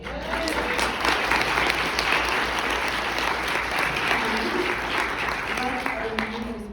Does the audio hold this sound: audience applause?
yes